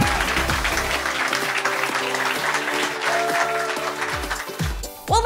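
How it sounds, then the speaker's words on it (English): A large audience at the 2017 Imagine Cup US Finals claps for the competing teams, sustained loud applause with a musical tone underneath, swelling again near the end. "can we get a round of applause for all the teams,"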